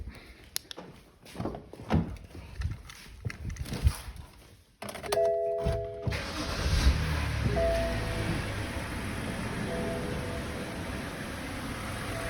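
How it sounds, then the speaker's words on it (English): A car door chime rings, then the engine of a 2006 BMW 525i E60 with replaced A/C compressor bearings cranks and catches, settling into a steady idle rumble that continues to the end. "We're going to go ahead and start the car"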